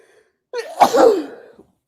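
A single sharp human sneeze, close and fairly loud, with a brief intake before the burst and a short fading tail, heard alone in a quiet room.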